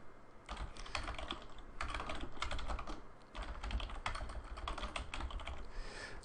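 Rapid bursts of typing on a computer keyboard, a steady clatter of keystrokes in three close runs with brief pauses between, no voices.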